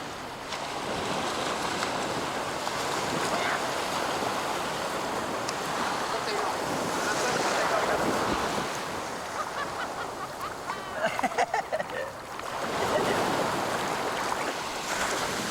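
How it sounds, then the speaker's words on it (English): Ocean surf rolling and breaking near a surf break in the Maldives central atolls, a steady broadband wash of water that surges and eases throughout, with brief splashy bursts partway through. "Atif, up and riding his first wave"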